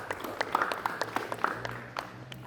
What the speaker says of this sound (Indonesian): tepuk tangan buat kelompok 3